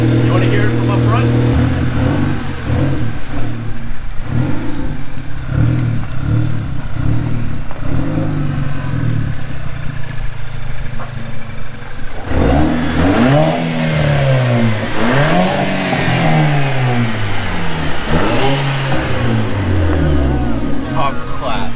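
A Volkswagen Mk6 GTI engine fitted with a diverter valve spacer revs repeatedly close by, each rev rising and falling in pitch, first in a series of short blips and then in longer sweeps, with people talking over it.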